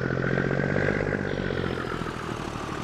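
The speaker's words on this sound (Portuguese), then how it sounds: "esse escapamento aqui tá absurdamente alto" A truck's extremely loud exhaust roars in Farming Simulator 22, a steady throbbing engine drone with dense pulsing rumble that holds loud and close throughout, without talk.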